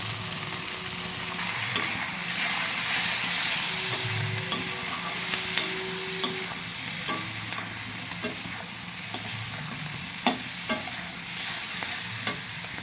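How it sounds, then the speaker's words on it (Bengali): Turmeric frying in a pan with steady oil sizzle, broken by sharp scraping clicks of a spoon stirring at irregular intervals, close and alone with no voices. "ভালো করে ভেজে নেব।"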